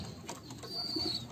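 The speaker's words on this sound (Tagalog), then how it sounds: "tapos nang kumain itong mga kalapati natin" Pigeons feeding give a few soft, low coos, faint and close, with a brief flutter of wings and light background noise.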